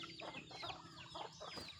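A breeding hen, a mother bird kept for raising chicks, clucks in a quick series of short, close calls, fairly soft, with other fowl sounds faintly around and no talking.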